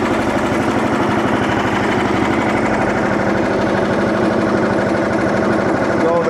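A Frontier sawmill's engine idles at a steady, loud drone with a regular pulsing chug, running continuously and close by as it warms up before cutting oak boards.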